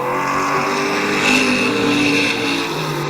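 Stock cars race at Midvale Speedway, engines roaring loud and steady as they push up the banking out of a turn, with a slight swell in the middle as a car passes close.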